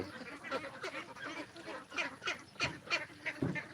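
Ducks on a small duck farm quack and honk in a busy, overlapping chorus, fairly quiet and near, with calls rising and falling in quick bursts.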